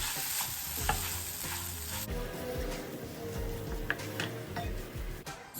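Dried dal stirred into a hot cooking pan for dal puri, a steady close sizzle with scraping spoon strokes against the pan and a couple of light taps.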